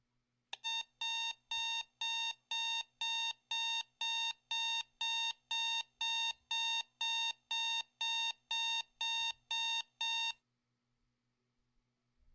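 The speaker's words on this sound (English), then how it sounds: "sound of his alarm clock going off." An alarm clock going off in a DDLC mod game, a loud electronic beeping in a steady pulse of about twenty evenly spaced beeps that stops abruptly, leaving near silence.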